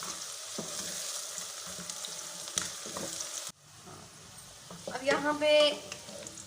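Onions fry to a light golden colour for chicken korma, a soft hiss of frying for the first half that drops abruptly, after which a person speaks over a quieter background.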